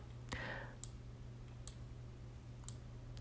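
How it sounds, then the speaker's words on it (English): A computer mouse gives three or four sharp, faint clicks, spaced about a second apart, over a quiet low hum. "So I'm going to click on Find All."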